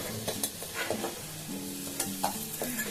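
Lentil fritters (dal bora) frying in hot oil, with a soft continuous sizzle broken by light scrapes and clinks of a spatula moving them around the pan, fairly quiet and without voices.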